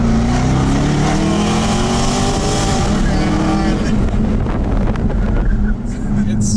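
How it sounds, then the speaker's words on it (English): A Jaguar F-Type SVR with a supercharged V8 accelerates hard, its engine note climbing in pitch over several seconds before easing off, loud and close, with wind noise and a voice talking over part of it. "It's an old school like V8, but you've got a supercharger added on that."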